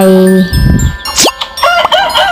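A short rooster crow rings out at the start, followed by a quick run of clucks, plops and bright chiming effects.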